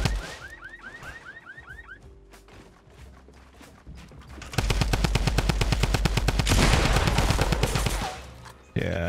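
Gunfire from another player in Fortnite: first scattered distant shots, then a long loud burst of rapid automatic fire that runs several seconds, over faint game ambience.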